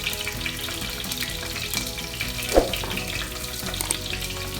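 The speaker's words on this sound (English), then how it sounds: "The mustard seeds are spluttering." Mustard seeds crackle and pop in hot oil as the last step before a bottle gourd and dried shrimp bhaji, a dense continuous sizzle with one louder pop near the middle and no talking.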